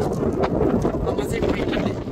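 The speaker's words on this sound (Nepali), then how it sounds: "साँच्ची हावा चलिरहेको रहेछ है।" Wind gusting on a high viewpoint at Caniçal, Madeira, a steady broadband rush and buffeting against the microphone, loud and continuous throughout with a faint voice murmuring underneath.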